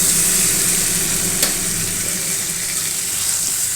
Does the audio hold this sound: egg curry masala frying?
yes